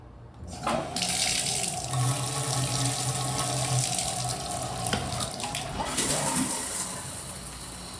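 Shower running in a Holiday Inn Express hotel room in Houston, a steady hiss of spraying water close by, with brief clanks and splash changes as the flow shifts.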